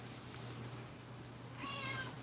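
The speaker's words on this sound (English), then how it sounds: "If you heard another cat, that was Mila who meowed." An elderly 18-year-old cat gives a single soft meow, faint and a little distant, over a low steady room hum with no talking.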